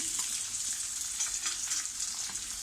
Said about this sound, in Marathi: आता आपण त्यात हा कांदा घालूया.